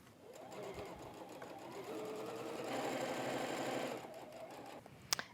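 Sewing machine running steadily as it stitches a 1/4 inch seam joining fabric strips for a shopper tote, a continuous close whir with a brief stop near the end and no talk.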